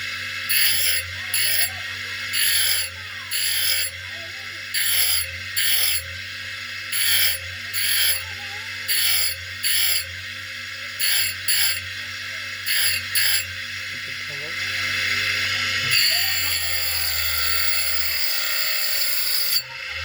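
A small cutting machine carving a heart design into a conch-shell bangle, running in a regular series of short grinding bursts with pauses between, then a longer continuous whine under heavy pressure near the end.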